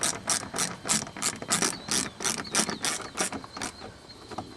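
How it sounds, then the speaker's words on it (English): A ratchet snugging 7mm bolts back into a GMC Envoy door panel gives out a close, steady run of quick clicking bursts, one after another, with no talk over it. "Now you want to put your 7mm bolts back in."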